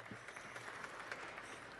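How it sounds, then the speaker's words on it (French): Faint audience applause during a lecture, a steady wash of clapping that stays quiet and even for under two seconds with no voices over it. "Merci à ceux qui applaudissent courageusement."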